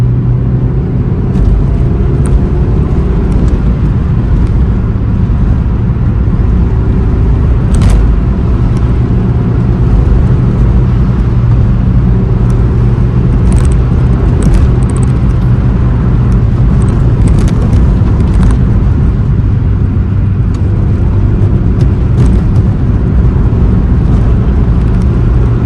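A Suzuki Swift VVTS GLX with low mileage, driving with a steady, loud engine drone and road rumble from inside the car, holding the same note with no talking.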